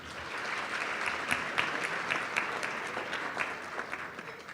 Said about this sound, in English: we would still like to give him a round of applause